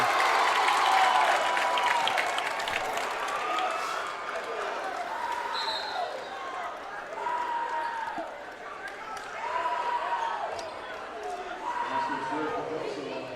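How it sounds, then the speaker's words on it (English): A high school basketball crowd cheers and claps in the gym while a commentator talks over it, with whoops and shouts swelling in waves and sneakers squeaking on the court. "the crowd is getting loud over there in the student section"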